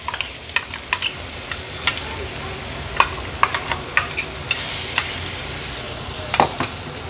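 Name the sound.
ground masala paste frying in oil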